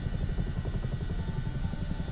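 A Chinook helicopter rolls along the ground on its wheels, its engines and rotors giving off a loud, close, continuous low thumping rumble with a rapid pulsing beat and no pauses.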